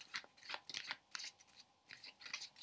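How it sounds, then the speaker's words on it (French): Tarot cards, a full deck of 22 major and 56 minor arcana, being shuffled by hand in short crisp bursts of riffling and sliding, with brief pauses between passes, close and quiet. "Donc vous mélangez vos cartes"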